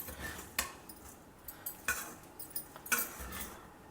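A spoon clinks and scrapes against a pan while vangi bhath, an eggplant rice dish, is being mixed. A few sharp metallic taps stand out over quiet stirring, close and fairly faint, with no talking.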